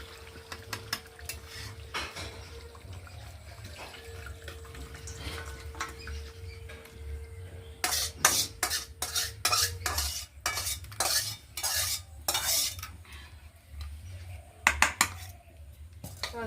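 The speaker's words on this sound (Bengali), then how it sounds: "এবার আমি এটা ঢেলে নিচ্ছি গামলার মধ্যে।" Cooked duck curry, thick and dry-fried, is scraped and poured into a bowl with a metal utensil, making a rapid series of loud clanks and scrapes against the pot after quieter stirring and a faint background hum.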